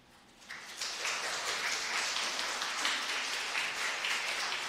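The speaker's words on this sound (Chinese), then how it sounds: "我们把掌声归给上帝啊！" A church congregation breaks into applause during a Sunday worship service, the clapping rising quickly after a brief quiet start and then holding as a broad, steady, moderately distant wash of many hands.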